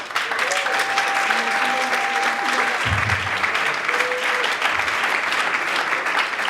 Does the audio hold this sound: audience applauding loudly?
yes